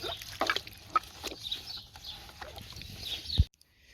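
Water runs and splashes over a dirty seatbelt strap being rinsed, with scattered drips and trickles, close and moderately loud, ending abruptly in silence.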